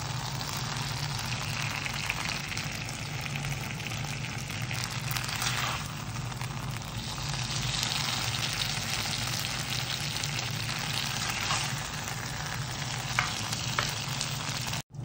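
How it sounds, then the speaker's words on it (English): Cauliflower fries in oil in a pan, a dense, steady sizzle that crackles continuously at close range for the whole stretch with no talk. "Let the cauliflower roast until it comes to golden brown. Now the cauliflower nicely fried."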